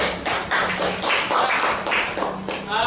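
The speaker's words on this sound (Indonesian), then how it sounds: "tepuk tangan dulu" Students clap together in a classroom after a group presentation, a short burst of uneven, close-up hand claps with a few louder individual slaps.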